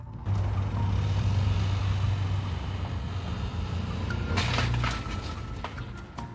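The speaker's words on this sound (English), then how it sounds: "you can see and hear the exact moment when hydrolock occurs, or hydraulic lock" A car engine running and straining as it takes in water, a loud steady rumbling drone that stumbles near the end with a burst of rattling noise, then fades.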